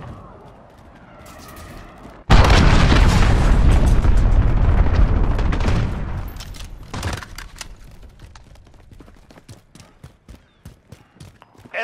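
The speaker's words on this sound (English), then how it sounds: "Enemy cruise missile, take cover!" A cruise missile strike in Call of Duty: Modern Warfare erupts suddenly into a loud, sustained roar of explosions and rumbling blasts lasting several seconds, then tails off into scattered crackles and debris impacts.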